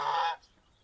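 A goose in a backyard poultry yard gives a single short, loud nasal honk up close, then falls quiet.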